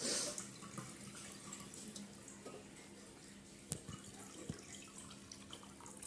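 Dissolved sugar syrup strained into a vessel gives a faint, steady trickle and pour with a few soft drips and clinks, low and continuous throughout.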